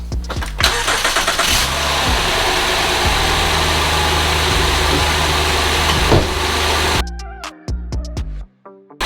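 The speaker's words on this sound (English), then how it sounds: "Then I'm going to start the car and let it run for 10 minutes." A car engine cranks and catches, then idles steadily and loud for several seconds before a few clicks and knocks as it settles, running with Liqui Moly engine flush added to the oil.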